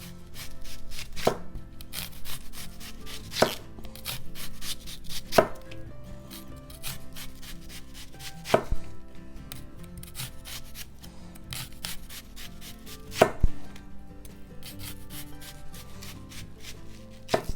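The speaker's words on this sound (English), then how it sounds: "I'm going to shave this onion as thin as I can." A knife shaves an onion as thin as possible by hand for smash burgers, making a continuous soft scraping and slicing texture broken every few seconds by a sharper knock against the board, with no voices.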